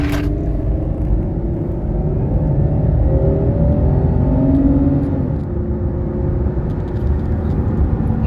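A 2002 Buick Regal pulling away in first gear, a steady low engine rumble and whir heard from inside the car, rising slightly in pitch as it accelerates, loud and without talk.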